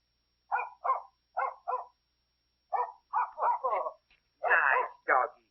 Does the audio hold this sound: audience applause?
no